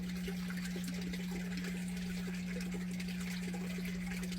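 Water trickles and splashes steadily through an aquaponics system beside a constant low mechanical hum from a pump, an unbroken flow with no voices.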